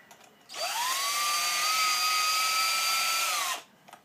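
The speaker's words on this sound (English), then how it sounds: "You don't want to spin the drill really fast." A power drill driving a Lee case trimmer whirs at a steady high pitch for about three seconds, starting and stopping abruptly, close and loud.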